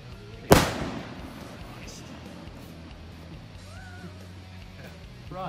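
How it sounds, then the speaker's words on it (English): A Vivid 3-inch VSR3 ball head firework rocket gives one sharp loud crack near the start, then fades into a quiet outdoor background as people talk nearby. "nice firework, but what goes up must come down in that case before it explodes"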